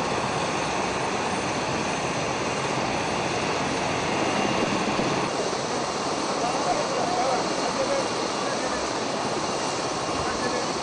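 An ambulance helicopter carrying a pregnant woman flies with a continuous loud rotor and engine drone throughout, steady and fairly close, with a voice speaking over it.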